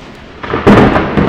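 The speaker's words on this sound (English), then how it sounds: "Oh, that one was obviously thunder." Very close thunder clap bursts in suddenly and loud, a sharp crack rolling into a heavy rumble that fills the rest of the moment, arriving as a storm builds before any rain has started.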